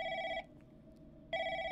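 An electronic telephone rings in the horror game The Lancaster Leak, set in a call center. Two steady, bright ring bursts are separated by a short pause, fairly faint and with no talk.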